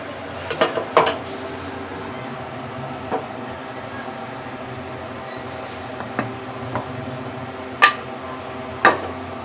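Egg masala curry being served onto a plate, with sparse, crisp clinks of a spoon against dishes scattered over a quiet kitchen background.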